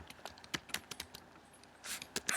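A few seconds of typing on a computer keyboard while entering a server name into a file transfer program, with soft, irregular key clicks, single taps and a short quick run near the end, close and quiet.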